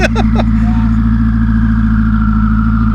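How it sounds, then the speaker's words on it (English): A flat-plane V8 car engine with turbochargers runs loudly and close at a steady drone, with a bright whine riding on the low rumble and brief fluttering bursts near the start. "really hear those turbos"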